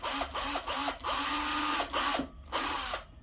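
Power drill boring a hole into a wooden plant light table, the motor whirring in short repeated bursts with brief pauses between, close and fairly quiet.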